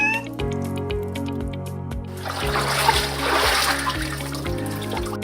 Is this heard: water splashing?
yes